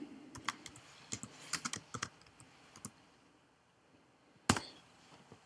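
Computer keyboard typing a song title into a search field: a quiet, close burst of irregular key clicks, a pause, then one sharper keystroke near the end, with no talking.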